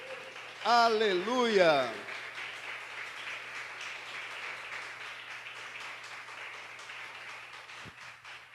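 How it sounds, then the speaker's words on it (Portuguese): A church congregation claps steadily through a worship service, the applause running as a soft, even wash after a sung or shouted exclamation at the start. "Você pode aplaudir e glorificar ao Senhor"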